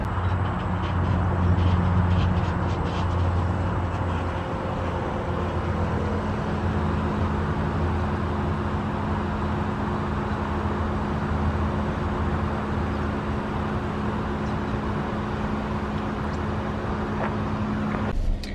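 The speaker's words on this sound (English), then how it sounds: "Ford bakes in a fake sound and it's an option through the radio if you want" A Ford Mustang Mach-E electric car plays its synthetic engine sound through the radio, a steady low droning hum with faint tonal lines held evenly throughout, loud and continuous from inside the cabin.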